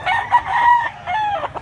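A rooster in a rural setting in Mantalungon, Cebu gives a short, close cock-a-doodle-doo crow that rises and then breaks into a second phrase, loud over faint outdoor background.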